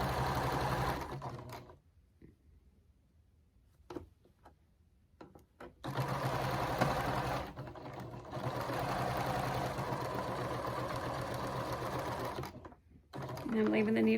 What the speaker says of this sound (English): use the needle down position on your sewing machine if your machine has that